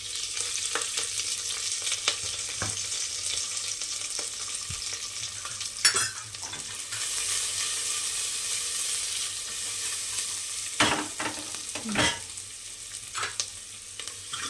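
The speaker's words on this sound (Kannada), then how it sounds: "ಈರುಳ್ಳಿ ಫ್ರೈ ಆಗಬೇಕು ನೋಡಿ ಫ್ರೆಂಡ್ಸ್" Onions frying in a pan for nugge soppu (drumstick leaf) saaru, a continuous steady sizzle broken by a few clinks and scrapes of stirring, close by.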